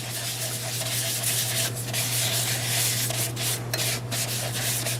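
Finish is rubbed onto a spinning magnolia wood turning with a continuous, close friction hiss over a steady lathe hum, lasting the whole stretch without talk.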